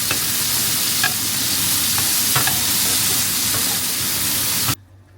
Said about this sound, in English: Okay, put some onions in. There you go. I'm just using the same oil that I fried the fish with.